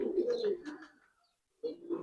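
A red-ringed pigeon coos in low, rolling phrases, close and clear, with a short silent pause before another coo begins.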